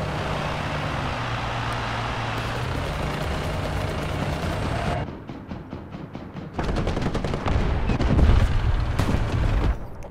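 Gunfire in War Thunder from a cheating player, a dense rumbling stretch of engine and cannon noise followed by a burst of rapid repeated shots and heavier booms, loud and close with no talking.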